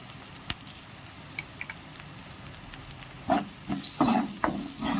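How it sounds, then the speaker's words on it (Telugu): Onions fry in a pan with turmeric and salt, a soft sizzle under scraping stirs that turn louder and busier toward the end. "ఉల్లిపాయల్ని బాగా వేయించుకోవాలి."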